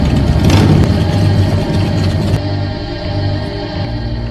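A motorcycle gang rolls up on motorbikes, several engines idling and rumbling close by in a steady, loud drone that eases slightly partway through, with no talking.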